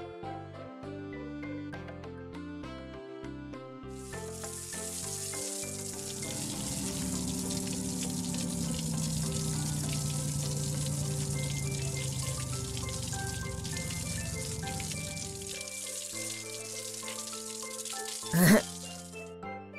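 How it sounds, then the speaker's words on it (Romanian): Steady spraying water from a cartoon shower, a broad hiss running for about ten seconds over music with clinks and tones, then cutting off before a brief sharp accent near the end. "Stevie se răcorește cu un duș."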